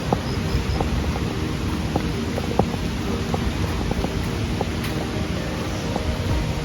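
A steady, distant roar of waterfalls carries to a road near Kalasa in Karnataka, a continuous broadband wash heard alone and at an even level throughout.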